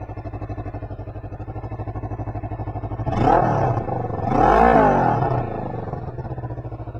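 Kawasaki Vulcan S motorcycle with a modified, drilled exhaust, its idle pulsing steadily before two strong revs rise and fall in the middle, close and loud, then settling back to idle.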